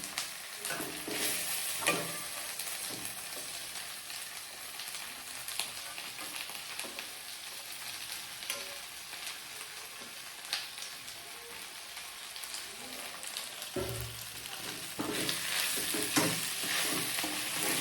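Tomatoes fry in a pan for village-style mutton chops, making a quiet, continuous sizzle with occasional stirring and louder bursts near the end, with no voices.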